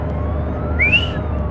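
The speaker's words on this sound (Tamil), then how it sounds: "அத்தடி போலீஸ்கார் வராருங்க, சைரன் போட்டு." Police car siren in the Euro Truck Simulator 2 driving game, a single rising wail sweeping up and fading over a steady low engine rumble, moderately loud and brief.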